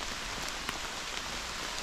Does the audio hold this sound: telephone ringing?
no